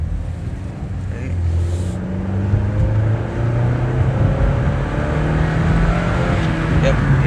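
A Chevrolet Malibu engine, repaired for P0016/P0017 faults, idles and hums steadily up close, a smooth continuous drone with slight shifts in pitch and no talking.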